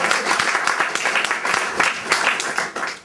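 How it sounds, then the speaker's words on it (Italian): Warm applause from the audience at an evening of Sicilian dialect poetry honouring poet Salvatore Cagliola and his wife Anna, many close hand claps overlapping in a lively, uneven patter that continues throughout. "che saluto con un fraterno applauso"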